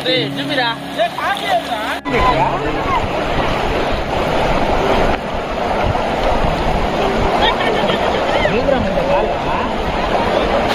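Heavy floodwater rushes through a stream in Venkatagiri town, a loud continuous roaring wash close by, with people talking over it.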